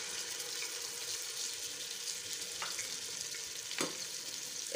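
Paste being stir-fried in a pan for an egg and chickpea masala, giving a steady broadband sizzle with a few short scraping stirs near the end.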